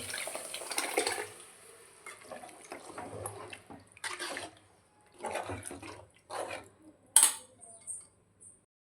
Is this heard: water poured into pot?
yes